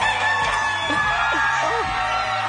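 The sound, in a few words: rooster crowing sound effect on game show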